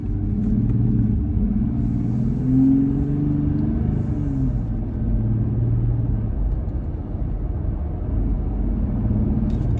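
A Jeep Gladiator with a cold air intake idling, a steady low engine grumble and rumble heard up close for about ten seconds, even in level with slight wavering pitch and no talk.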